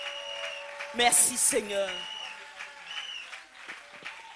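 A church congregation claps and cheers in acclamation of the Lord, a loud burst of applause rising for about a second, then fading under someone speaking in French.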